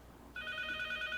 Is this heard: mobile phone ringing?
yes